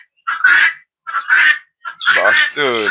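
Farm-raised guinea fowl kept alongside chickens let out three loud, harsh calls close by, each a rasping burst separated by brief gaps.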